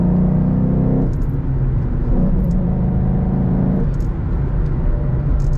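A 2014 Ford Mustang GT California Special with a manual gearbox, its engine rising in revs after a downshift, a steady loud rumble that climbs in pitch in two stages.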